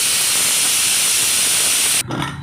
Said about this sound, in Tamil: குக்கர் விசில் விட்டுருச்சு